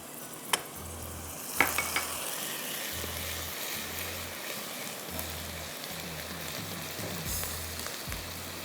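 Ginger garlic paste sizzles and crackles softly in hot oil with spices for an egg masala, a steady frying hiss with a few sharper pops and stirring scrapes throughout.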